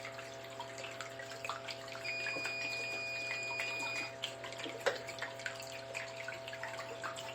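Water trickles steadily through a small sluice during a gold concentrate cleanup, a soft continuous running and splashing with a faint high tone and a few louder drips and splashes, no talking.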